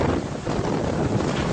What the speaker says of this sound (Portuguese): E vento.